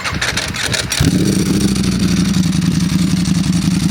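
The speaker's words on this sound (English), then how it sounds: "I love the dry clutch. When you hear that, you just know it's a Ducati" A Ducati Panigale V4 SP2 with a V4 engine and Stage 2 ECU flash starts up loud and close, settling into a deep, bassy, steady idle with a faint dry clutch rattle.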